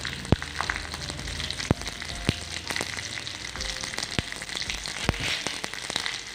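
Chillies, shallots and curry leaves crackle in hot oil, a close, steady sizzle broken by sharp pops and clicks of a spoon scattered across several seconds.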